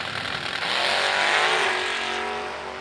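Drag racing cars launch down the strip at a bracket race, with a loud, swelling engine roar that peaks and then trails off as they pull away, heard alone without talk.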